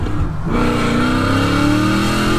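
A BMW E39 M5 fitted with a new exhaust setup, driven with a slipping clutch: a close, loud engine note that builds smoothly in pitch as it revs up under acceleration.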